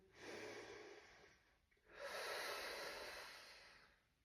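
Slow, soft breaths drawn in and pushed out through the nose, close and quiet, one long inhale-exhale cycle after another with a short pause between.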